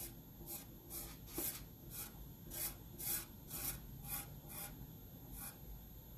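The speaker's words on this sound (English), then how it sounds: "I'm going to take my mini squeegee and I'm just going to smooth it out." A mini squeegee smooths gold paste across a surface in a steady run of close, soft scraping strokes, roughly a dozen rhythmic passes with no talking.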